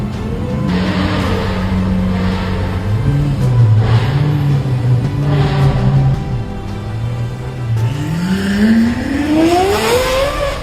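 Loud Lamborghini engine roaring up close, with revs climbing and dropping in steady pulses before a sharp rising scream toward the end.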